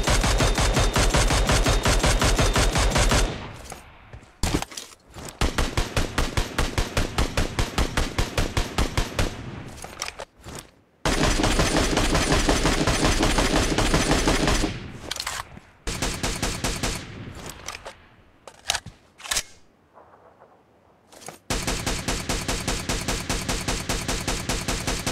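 Assault rifles firing in the game PUBG Mobile: loud, close, sustained full-auto bursts with rapid, even shot rhythms, broken by brief pauses and reload gaps between long strings of fire.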